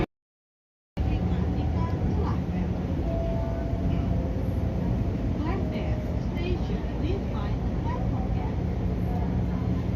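Majapahit passenger train rumbling past a KRL commuter train, a continuous loud rail roar with clattering wheels and faint squeals heard from on board, starting abruptly after a second of silence.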